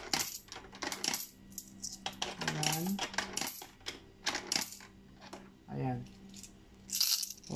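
A run of metallic coins dropped one after another into a coin slot acceptor for a piso wifi machine, sharp clinks and rattles at an irregular pace, close by.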